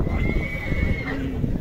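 A horse neighs at a livestock horse market, one drawn-out whinny that falls in pitch, close and fairly loud over low rumbling crowd and hoof noise.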